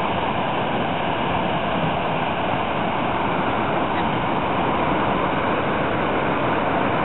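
Class 4 whitewater rapids tumble over slate boulders in a continuous roaring rush of churning water, loud and close with no voices.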